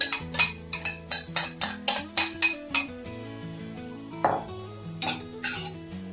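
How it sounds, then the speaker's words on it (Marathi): Soaked fenugreek seeds being fried in ghee in a pan for fenugreek laddoos, heard as a quick run of metallic clinks and scrapes from a spoon against the pan, close and rhythmic, then a pause and a few more taps. "आता या मेथ्या ह्याच्यामध्ये परतून घेते"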